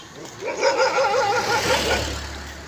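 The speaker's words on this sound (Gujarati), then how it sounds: "આ કુતરો છે એ બગડાણાથી અમારે હારો હારે હાલ્યો આવે છે" A dog walking alongside pilgrims on a foot journey from Bagdana whines and yelps in a wavering, drawn-out call lasting a couple of seconds, close and fairly loud over a low rumble of passing traffic.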